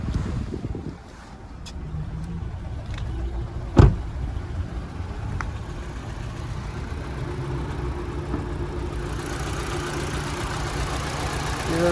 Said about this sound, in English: as we listen to it run, no major knocks, rattles or squeals. That motor ticking over nicely.